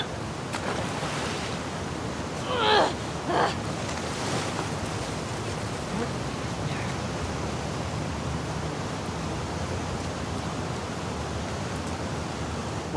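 Steady broadband rush of flowing water in a flooded area of The Last of Us Part II, constant and fairly loud throughout, with a couple of brief splashy surges near the start.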